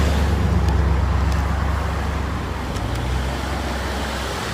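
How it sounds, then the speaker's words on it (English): A fleet of cars drives past on a road, a continuous loud rumble of engines and tires with low droning hum, one vehicle tone shifting midway as traffic rolls through. "Here comes a whole fleet of cars. See, they're all coming through here."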